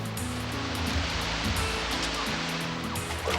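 Ocean waves in a cartoon make a loud continuous rushing surf, broad and steady with faint pulsing and a low tonal bed beneath, and no speech.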